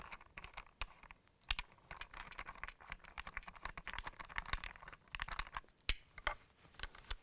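Removing the lock knob from a V20 tripod head gives faint, close clicks, taps and small metallic rattles in an irregular patter over several seconds.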